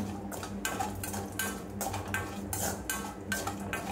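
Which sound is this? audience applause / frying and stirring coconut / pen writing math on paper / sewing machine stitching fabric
frying and stirring coconut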